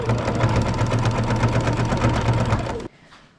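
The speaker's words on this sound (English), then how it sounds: "continue sewing, but I always backstitch in these corners too to reinforce them" A Baby Lock Jazz II sewing machine stitches through a quilt with a steady, fast mechanical whir and rapid needle rhythm, running close and loud for nearly three seconds before stopping abruptly into quiet.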